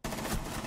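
Gunfire in the Rainbow Six Siege video game, a dense, loud burst of rapid shots filling the whole short moment with no talk.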